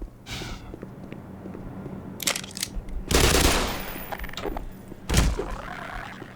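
The player's own gun firing in the shooter Black Mesa, a few loud separate bursts and single shots with gaps between them, over low room noise and no talking.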